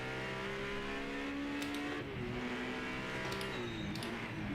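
GT race car from the Project Motor Racing video game lapping Road America, its engine droning loud and steady through repeated gear changes and rising revs, with no talk over it.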